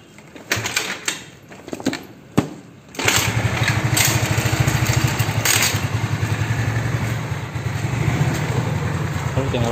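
After a few clicks and taps, a carbureted Honda Beat scooter engine, fitted with new valve rocker arms and pin, idles steadily close by, a quick even putter that continues without a break.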